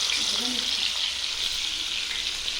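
Steady hissing sizzle of fish frying in oil on a hot flat dosa griddle, continuous and close, with faint murmuring in the background.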